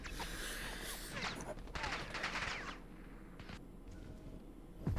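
Sustained automatic gunfire and overlapping shots in the Call of Duty Modern Warfare II campaign, a dense fusillade that thins out partway through, with a sharp burst near the end and occasional shouted voices mixed in.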